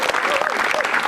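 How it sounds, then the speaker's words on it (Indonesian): A comedy-club audience applauds a stand-up comedian at a political campaign-themed Indonesian stand-up comedy show, a short dense burst of clapping with a voice talking over it. "Ya, tepuk tangan Yanto Stress."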